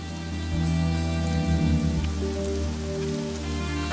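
Rain keeps falling steadily outdoors, a constant soft patter that runs under a low tonal hum and a few brief clunks, with no voices.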